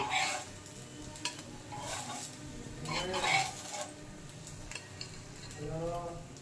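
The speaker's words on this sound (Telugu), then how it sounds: "ఈ ప్లేట్లోకి తీసేస్తున్నాను ఇవన్నీ" Ghee-fried bread pieces are lifted from a pan onto a plate, giving soft scraping and clinking of utensil against metal over a faint sizzle, with a voice talking at moments.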